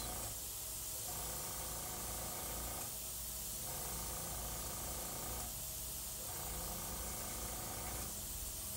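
An airbrush sprays paint onto a custom Iron Man chest piece, giving a steady, close hiss throughout with the air left on. Its texture thickens in regular swells as bursts of paint are released.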